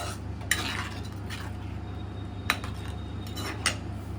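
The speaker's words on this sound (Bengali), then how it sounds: "গরম দুধ দিয়ে ভালো করে এটাকে মিশিয়ে নিলাম" A utensil stirring hot milk into butter garlic prawns in a pan, three sharp clinks of metal against the pan spaced apart over a low, quiet simmering background.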